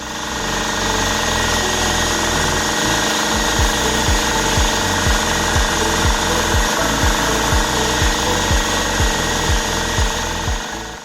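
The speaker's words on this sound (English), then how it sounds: "Turn on the compressor and allow it to pressurize." A RIDGID 4.5-gallon portable quiet air compressor runs as it pressurizes its tank. Its loud, steady motor drone carries a fast rhythmic pumping pulse throughout, close and unbroken.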